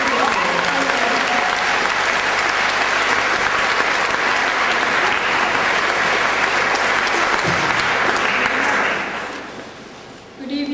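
A school audience at a Year 7 event applauds for several seconds, a loud and even roar of many hands clapping that fades toward the end and then picks up briefly.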